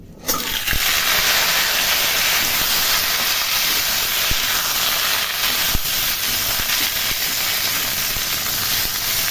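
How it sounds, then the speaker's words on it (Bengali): Cut man kochu (taro) frying in oil with cardamom and dried red chilli in a pan, a steady, close hiss and sizzle that runs unbroken throughout with a few faint clicks. "কচুটা হালকা ভাজা ভাজা হয়ে গেছে"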